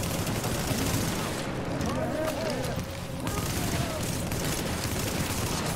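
Continuous gunfire from a co-op shooter set at a refugee camp in The Division, with dense rattling shots running throughout under loud, steady game ambience and a faint voice.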